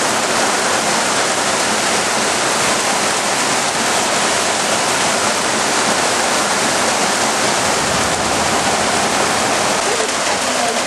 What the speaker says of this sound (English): Well, the water's starting to come in here.